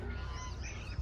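Birds chirping outdoors near a lake, light calls over a steady background wash, with a brief low thump near the end.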